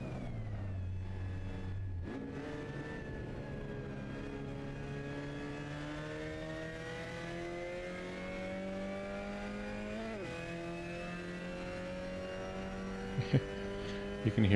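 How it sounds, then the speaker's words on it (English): A Mazda MX-5 Cup race car in a racing sim, its engine note climbing steadily through the gears and shifting up without lifting, each upshift a quick step in pitch, close and continuous with light clicks at the end. "You can hear me no lift shifting."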